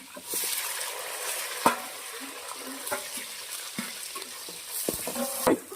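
Green chilies and onion frying in a pan as the base for a fish curry, giving a steady soft sizzle with occasional sharp stirring clicks and scrapes throughout.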